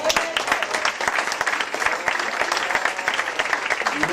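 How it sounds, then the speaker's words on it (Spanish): Church congregation at a Sunday school service clapping together, dense sustained applause with a faint voice underneath, steady and fairly loud. "Un aplauso al Señor."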